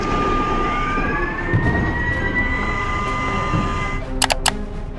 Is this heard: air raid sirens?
yes